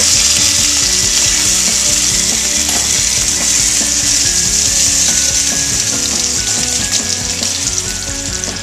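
Onions and tomato fry in a pan, a loud, steady sizzle and crackle that holds constant throughout, with occasional faint scrapes and knocks from stirring and no talking.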